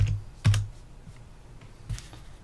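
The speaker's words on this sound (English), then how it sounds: "you're going to go into PuTTY, type in your IP address again," An IP address is typed on a computer keyboard, with a few soft, sparse keystrokes and one firmer tap near the start. The room is quiet and no one speaks.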